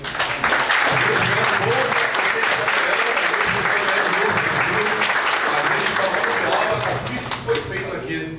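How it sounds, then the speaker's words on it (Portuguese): A crowd gives a round of applause for university students, with loud, dense clapping that lasts several seconds alongside some voices, then tapers off near the end. "Pedir uma salva de palmas para os alunos"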